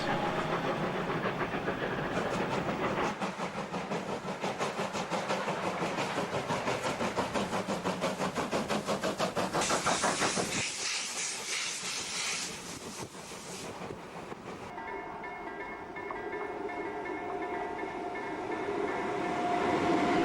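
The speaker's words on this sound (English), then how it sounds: "Here we see the locomotives being repositioned before the journey continues further uphill toward the mountains." Steam locomotives being shunted and repositioned at a Norwegian mountain station on the Bergen Railway, a broad continuous rumble and hiss of rail machinery holding steady throughout, with a brighter hissing burst partway through and a tonal hum toward the end.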